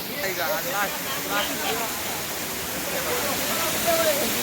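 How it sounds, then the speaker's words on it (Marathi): A waterfall at Tamhini Ghat roars as a broad, steady, hissing rush of falling water, loud and unbroken throughout, with voices talking faintly beneath it. "आमचा एवढा भारी वॉटरफॉल बघायला भेटत नसेल"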